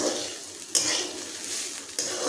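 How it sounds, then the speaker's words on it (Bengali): Rice is fried and stirred in a pan for Bengali khichuri, a close hiss of frying with two sharp scraping strokes of a spatula against the pan, and no speech. "চাল ভাজা হয়ে যাওয়ার পর চালটা আমি নামিয়ে দিয়েছি"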